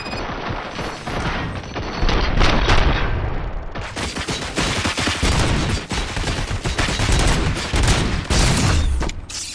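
Sustained gunfire from the video game Robocop: Rogue City, dense rapid bursts and booming shots rattling continuously across the whole stretch, loud and close with no pauses.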